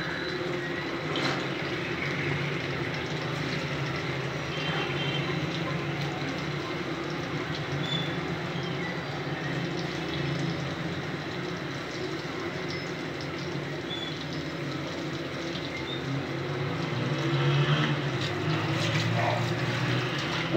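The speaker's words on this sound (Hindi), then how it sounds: "अब इसमें हम फ्राई कर लेंगे इनको हल्के फ्राई करना है" Mince koftas, made without egg or gram flour, lightly half-frying in hot oil, a steady dense sizzle and crackle running continuously close up, swelling slightly near the end, with no talk.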